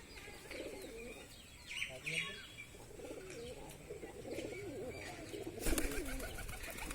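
Pigeons coo in soft repeated rolling phrases close by, with a few chirps and a brief flutter of wings near the end, fairly quiet overall.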